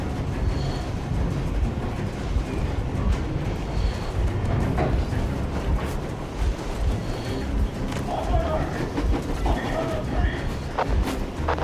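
A moving train with faulty brakes slows in Metro Exodus, giving a continuous rumbling rail clatter for about twelve seconds. Scattered bird-like chirps and faint clanks sound over the rumble.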